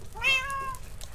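A single cat meow from Minecraft's Blockhunt minigame, a rising then falling tonal cry about half a second long, clear and close over a low background hum.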